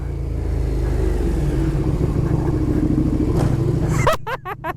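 A 2020 KTM 1290 Super Duke R engine roars loud and steady at close range for about four seconds, then cuts off, leaving someone speaking excitedly.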